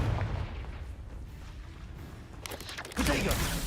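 A Confringo fire spell cast in the video game Hogwarts Legacy, a booming explosive blast rumbling low then bursting into a louder crackling impact near the end, with someone talking over it.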